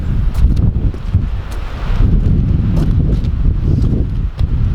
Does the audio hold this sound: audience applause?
no